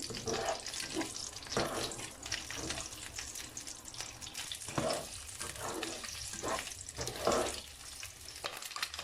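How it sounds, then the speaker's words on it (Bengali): Eggs frying lightly in a hot pan for about a minute, a steady soft sizzle with recurring scraping stirs and a few louder bursts, close and continuous without talk. "আমি এখন হালকা করে ডিমগুলো ছেড়ে দিব। খুব বেশি ভাজবো না, একটু হালকা করে ভেজে উঠায় নিব"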